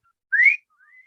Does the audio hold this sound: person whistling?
yes